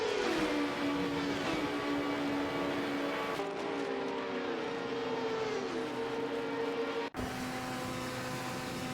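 Race car engines in an AI-driven prototype racing simulator game, a steady loud drone of several engines with pitch sweeps as cars shift and pass, continuous until a brief cut near the end, no talking.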